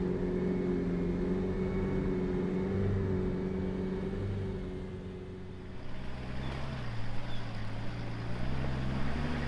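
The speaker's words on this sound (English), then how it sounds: "So now we've got James from New Tracks heading up in his long wheelbase GQ, 33-inch tyres, twin locked." A long wheelbase GQ four-wheel drive on 33-inch tyres, twin locked, climbs a steep bush track, its engine droning steadily at a distance and swelling louder in the final seconds.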